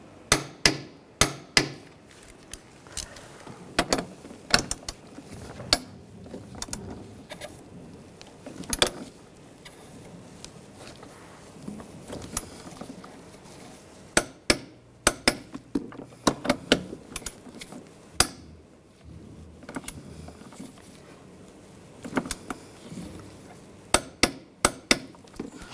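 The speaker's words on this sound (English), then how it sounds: "Now we're going to torque these bolts to 34 foot-pounds." A wrench works on the valve cover bolts of a 2006-2010 BMW 550i 4.8L V8, producing scattered sharp metallic clicks and clanks at uneven intervals against a quiet workshop background.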